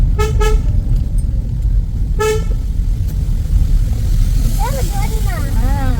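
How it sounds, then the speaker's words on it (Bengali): On a narrow, winding, rough mountain road toward Meghalaya, a car horn gives two quick toots, then another short blast, over the steady hum of a moving car. A warbling tone follows near the end. "হর্ন মারো"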